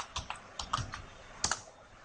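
Keys on a computer keyboard are struck close by in short, irregular bursts of light clicks with brief pauses between.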